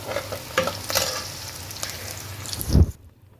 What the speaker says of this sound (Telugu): ఆనియన్స్ ఫ్రై చేసుకున్నాను